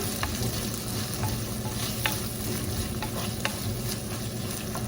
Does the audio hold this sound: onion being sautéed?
yes